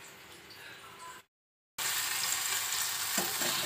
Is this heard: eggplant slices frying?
yes